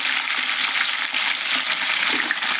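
Tomato pieces fry in hot oil in a pan, giving a loud, steady, close-up sizzle that holds evenly throughout with no voice over it.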